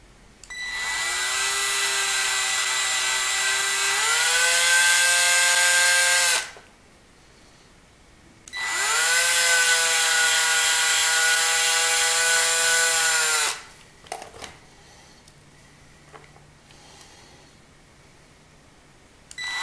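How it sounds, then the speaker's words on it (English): A power drill whines loudly in two long bursts, its pitch rising as it bites into a plastic Lego part, each run lasting several seconds with a pause between. "Now I'll drill it to the final diameter"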